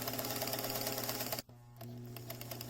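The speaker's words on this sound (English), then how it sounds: "And this one you sew all the way around." A sewing machine stitches a fabric bell cover for a musical instrument, humming and clattering steadily up close, stopping briefly midway and then restarting at a slightly softer, even pace.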